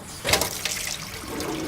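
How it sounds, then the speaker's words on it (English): Hot water gushes from a tap with a loud rushing splash that starts abruptly and continues steadily, nearby and with no talking. "Run a little hot water here."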